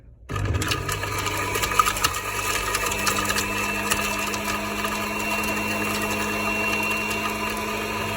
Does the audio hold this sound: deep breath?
no